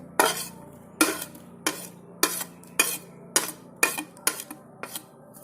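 A spoon or spatula stirring chopped almonds, raisins and coconut pieces in a pan, about ten sharp scraping clinks in a steady rhythm, close and alone.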